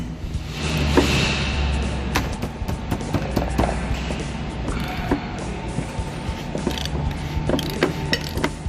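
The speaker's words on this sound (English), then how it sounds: "Now we're going to take the cover off, or the locking ring," Locking ring being worked off the fuel system of a 2017 Ford Transit 3.2 diesel van, steady close mechanical grinding and creaking with scattered sharp clicks and knocks throughout, no talk.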